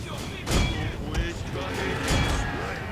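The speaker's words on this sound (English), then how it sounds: "he's firing his matchlock" Matchlock gunfire in a Total War: Shogun 2 battle: two sharp broadband cracks about a second and a half apart, with a smaller pop between, over a steady battlefield din and distant voices.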